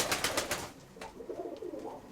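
In an upper breeding loft, a few soft pigeon coos roll low and close after an opening burst of rustling or fluttering.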